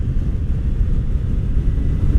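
The engine of a 2019 Kawasaki Z900RS Cafe motorcycle on a test ride, a steady, loud, low rumble mixed with wind roar, continuous and unbroken throughout.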